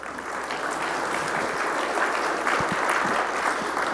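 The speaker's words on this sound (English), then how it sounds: "that deserves some clapping" Audience at a legal chapters conference applauding steadily, a sustained, moderately loud patter of many hands clapping together with no talk over it.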